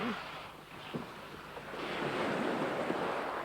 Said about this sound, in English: Getting very choppy now.